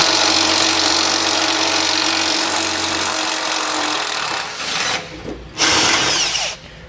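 A power tool with a 15mm socket whirs loudly and continuously for about four seconds, backing out a tow hook bolt on a 2019 Ford Transit, then gives a couple of short spaced bursts with pauses between them.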